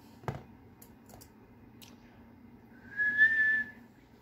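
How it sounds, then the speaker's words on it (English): A person whistles a short, steady high note near the end, following a soft click and quiet background noise while doing makeup with a pizza-themed eyeshadow palette. "My whistle."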